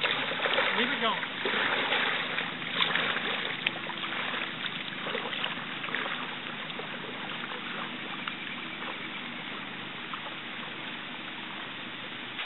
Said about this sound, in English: So I'm going to go do a little bit of kayaking.